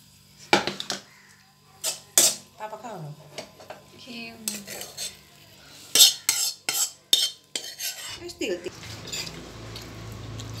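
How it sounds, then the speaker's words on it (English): Stir-fried kangkong with tofu served onto a plate: a series of sharp metal utensil clinks and scrapes against a pan and dish, spaced irregularly, ending in a soft shuffling rustle. "Let's put it on the plate."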